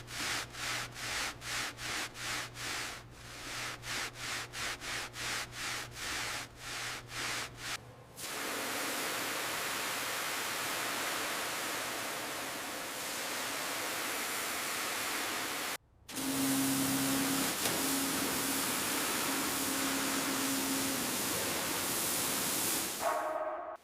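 A 1957 Jaguar XK150 gets a deep wash: a rhythmic scrubbing pass gives way to a steady hissing spray that cuts out briefly and then returns, loud and close.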